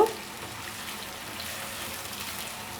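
Noodles fry in a generous amount of oil, giving a steady, close, even hiss with no breaks.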